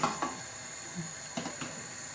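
A low protein pancake sizzles in a frying pan, a steady faint hiss broken by a few soft clinks and scrapes of a palette knife or fish slice against the pan.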